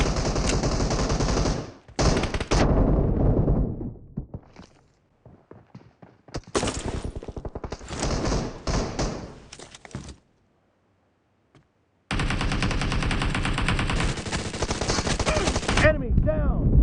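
Pistol fire from a PUBG Mobile team deathmatch comes in rapid loud bursts separated by short quiet gaps, with faint game sounds between volleys.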